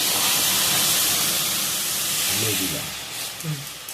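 Lentils poured into a hot pan of fried onion and garlic give a loud, close steamy hiss that swells and then slowly fades, with a few bubbling, clattering touches toward the end.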